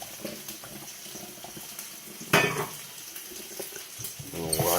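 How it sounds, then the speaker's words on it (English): Warm tap water running over pasta in a colander, a low trickle that swells into a louder rushing splash partway through, then settles back, with faint kitchen clatter. "I'm going to wash it in warm water."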